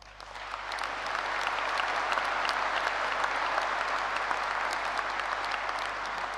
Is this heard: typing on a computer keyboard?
no